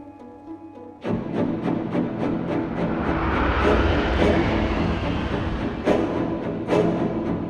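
A TGV Atlantique high-speed train bursts in after a second of quieter tone and then roars past with a loud, broad rushing rumble, swelling toward the middle and holding steady, with periodic clacks of wheels over rail joints.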